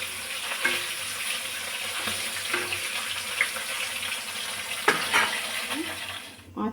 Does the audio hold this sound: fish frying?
yes